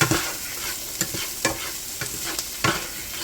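Partly thawed frozen mixed vegetables fry in a hot pan, a steady crackling sizzle broken by several sharp scrapes and knocks of a utensil stirring them, close and fairly loud with no talking.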